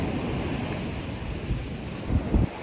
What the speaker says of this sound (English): the waves are continuing in the background here